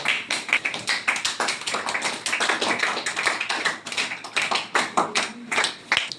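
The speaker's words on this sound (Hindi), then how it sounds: "ताली हो जाए।" Clapping from a class of students at a model school, a rapid irregular patter of many hands at close range, running steadily for about six seconds with no talk.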